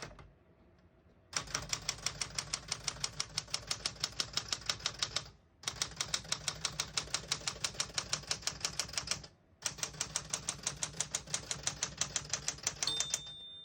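Vintage 1967-1970 Citation portable typewriter typing in three rapid bursts of sharp, even key strikes, close and clear, separated by short pauses, with a faint bell near the end.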